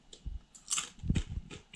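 Someone bites into the crunchy crust of homemade bread, a few sharp close crackling crunches in quick succession, alone without talk.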